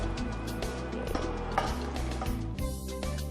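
Quartered onions sauté in a pan for Filipino pork sinigang, sizzling steadily under clinks and scrapes of stirring, close and moderately loud.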